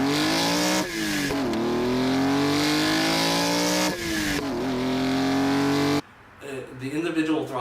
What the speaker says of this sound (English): they want to hear more of that S54 noise